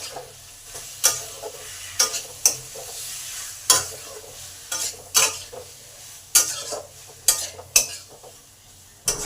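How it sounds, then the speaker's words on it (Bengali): Ginger, cumin and coriander spice paste frying in a pan, a soft steady sizzle broken by repeated sharp scrapes and clinks of a spatula stirring against the metal, close and fairly loud, with no talking. "ভালো করে এইভাবে কষে নেব যাতে মশলার কাঁচা গন্ধটা চলে যায়"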